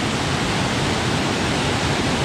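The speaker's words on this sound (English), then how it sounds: "looks like there's a little waterfall coming down here too" Small waterfall at Winniweta Falls, a steady, loud, broadband rush of falling water with no breaks, close by and alone.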